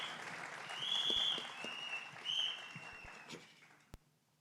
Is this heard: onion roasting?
no